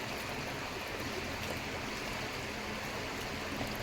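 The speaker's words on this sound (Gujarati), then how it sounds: "આ બજારમાં પાણી જાય છે જોરદાર" Heavy rainwater rushing strongly along a flooded market street after a full day and night of rain, a steady broadband wash of flowing water with no break and no voices.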